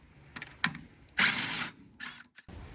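A ratchet tool works on a car wheel during a brake checkup, giving a few short clicking bursts followed by a longer loud ratcheting run and two quicker bursts, close and with no talk.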